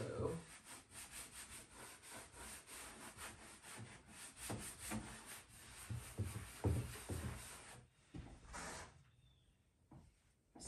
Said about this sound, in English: I'm going to come in with my rag and rub very hard, rub this yellow into the blue.